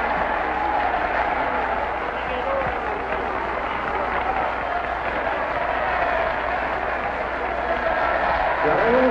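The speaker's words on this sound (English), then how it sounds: "Fidel Castro with the doves of peace sitting on his shoulders as he surveys the crowd that is tonight celebrating Cuba Libre." A large crowd in Cuba celebrating in 1959 sends up a dense, continuous roar of applause and cheering, steady throughout, with someone narrating over it.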